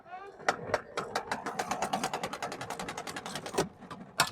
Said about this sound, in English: And then the hose just winds itself up. Be careful though, it goes pretty fast.